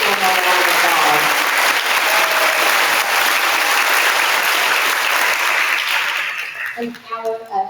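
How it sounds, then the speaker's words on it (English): An audience claps for students at a second grade awards day, a loud sustained round of applause that tapers off near the end as a voice begins speaking. "Let's give these students one more round of applause."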